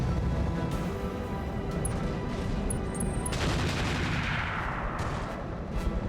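Mech weapons from the game BattleTech fire in a sustained, dense barrage of booming gunfire and blasts, loud and continuous throughout, with a heavier swelling volley partway through.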